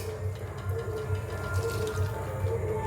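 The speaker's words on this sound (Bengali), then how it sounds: "এবার জল ঢেলে দেব।" Water is poured into a pot of browned vegetarian potato curry (alur dum) on the stove, a close, continuous liquid splashing and gurgling with a gentle pulsing rhythm and no talking.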